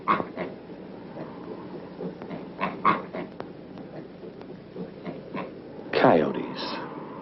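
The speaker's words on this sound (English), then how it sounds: "Boys from the city, not yet caught in the whirlwind of progress, feed soda pop to the thirsty pigs." Pigs grunt and squeal as they drink soda pop that city boys feed to them. The animal sounds come in short bursts, with one louder squeal near the end, and someone narrates over them.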